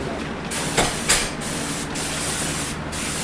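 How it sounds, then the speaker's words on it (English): A spray gun lays a light clear coat onto cabinet face frames: a continuous close hiss of atomized finish with a few brief louder bursts as the trigger pulses. No voices. "Let's keep doing another light clear coat."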